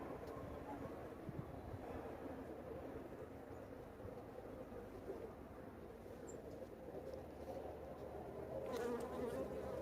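Honeybees buzzing at a new hive during an inspection, a dense steady hum filling the background, fairly faint and continuous, with a slight rise in activity near the end.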